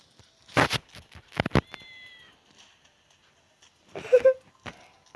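A cat meows a few times with short sharp clicks and taps around it, then one more drawn-out meow later; fairly close and clear, in a Roblox game.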